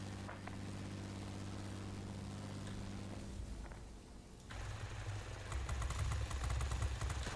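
In World of Warplanes, the engine boost on a He 100 D-1 fighter gives a steady, droning engine roar that swells louder and grittier partway through, with faint combat clatter mixed in.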